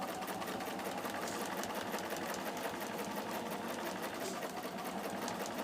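Sewing machine stitching quilt rows together for a patchwork of crosses quilt, a steady continuous whirring hum that runs close and alone throughout.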